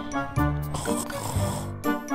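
A voice imitates snoring in children's pretend play, a few drawn-out nasal, grunting snore sounds repeated in a slow rhythm, close and moderately loud.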